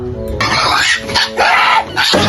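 A pet pig gives a series of loud, close squealing oinks in several bursts, with short pauses between them.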